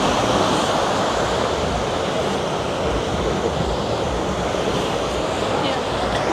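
Ocean surf rolling onto Kuta Beach in Bali at dusk, a steady broadband wash of waves breaking close by with some wind noise, continuous and fairly loud throughout, no clear voices.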